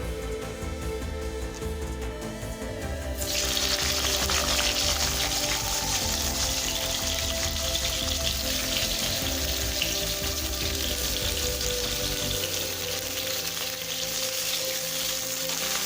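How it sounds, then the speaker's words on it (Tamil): Green brinjal sautés in hot oil in a kadai, a steady, fairly loud sizzle that holds throughout with faint stirring beneath. "இப்போ 1/4 கிலோ பச்சை கத்திரிக்காயை சேர்த்து வதக்கிக்கலாம்."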